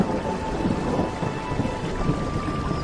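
Steady rain pours down in a rural village setting with a low, continuous rumble of thunder beneath it, an even, unbroken wash of sound with no voices.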